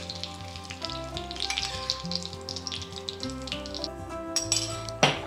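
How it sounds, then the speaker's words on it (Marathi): Hot mustard seed and green chili tempering hits a sandwich dhokla with a crackling sizzle, small pops and a utensil clink or two, rising to a sharp burst of spattering at the end. "यामध्ये घालते मी हिरवी मिरची आणि आता ही फोडणी किंवा हा तडका घालूयात ढोकळ्यावर."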